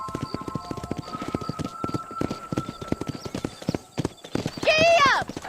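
In the Red Dead Redemption video game, a horse gallops with fast, rhythmic clip-clopping hoofbeats up close, overlaid with game music tones, and ends in a loud neighing whinny near the end.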